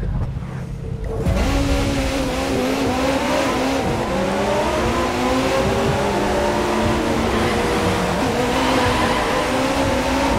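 An old Mercedes 300 SLR driven in the racing game The Crew 2, its engine revving loudly and steadily with rising and falling pitch as it accelerates and shifts, close and continuous after a brief quieter opening.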